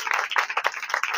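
A church congregation at a Christmas service claps in a dense, steady patter of many hands, loud and close, with no voices over it.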